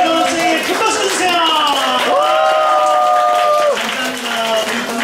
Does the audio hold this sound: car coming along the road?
no